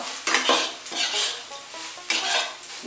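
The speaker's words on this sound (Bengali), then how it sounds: "ফুলকপিগুলো দিয়ে দিলাম, ভালো করে আমি নাড়তে থাকবো।" Grated cauliflower is stirred in a pan, with loud, close scraping strokes of a utensil against metal in a quick repeating rhythm over a light sizzle.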